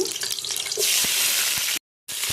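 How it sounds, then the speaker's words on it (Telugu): Onions and green chillies frying in ghee and oil with spices for prawn biryani, a steady loud sizzle with a few stirring clicks, cut by a brief silence before the frying resumes. "కొంచెం ఎర్రగా వేయించుకోవాలి. వేయించుకోండి. ఆనియన్స్ వేసుకోవాలి"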